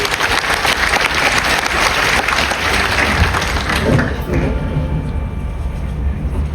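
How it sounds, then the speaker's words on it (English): A live audience claps for a performer at a show, a dense roar of applause that carries for about four seconds before thinning and fading. "Round of applause for Ryan."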